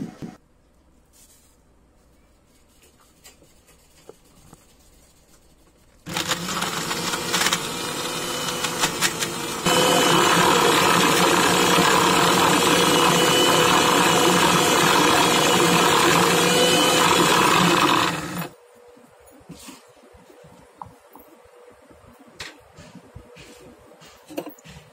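A mixer grinder grinds peanuts into peanut butter, starting abruptly and running loud for about twelve seconds with a steady motor whine and churning rattle, stepping up halfway, then cutting off to quiet.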